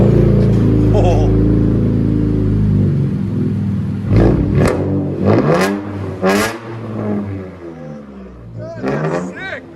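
A 2017 Infiniti Q60 3.0L with true dual straight-pipe exhaust revs hard several times, deep rumbling exhaust rising and falling in sharp bursts, with people talking excitedly over it.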